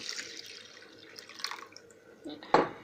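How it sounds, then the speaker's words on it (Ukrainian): Water is poured over soaked dried peas in a home kitchen, a short splashing run that swells to a louder burst near the end. "Заливаю водою."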